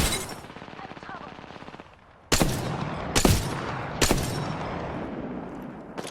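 Video game gunfire in Halo: a rapid rattling stream of shots, then several loud, sharp close blasts spaced about a second apart over a noisy battlefield.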